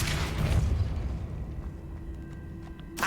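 The Depulso spell in Hogwarts Legacy bursts out as a deep, booming blast that rumbles close and loud, then decays over a couple of seconds into a quieter hiss, with a small crackle at the end.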